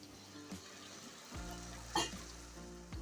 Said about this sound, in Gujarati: હવે આપણે એની અંદર બે ટમેટા લીધા છે અને મેં પીસી લીધા છે મીડિયમ સાઈઝના એને નાખી દઈશું